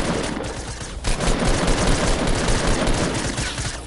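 Rapid automatic gunfire in a duo shooter video game, loud dense bursts that pause briefly at about one second and then continue without break.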